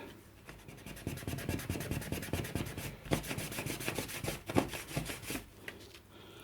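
Steady rubbing and scrubbing on an old radio case being cleaned with acetone, with repeated back-and-forth strokes. The strokes stay close and moderately loud, some harder scrapes stand out, and no one speaks.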